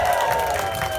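An audience at a Legoland children's dance lesson applauds and cheers after a dance, a steady wash of clapping and crowd voices filling the whole moment at fairly close range.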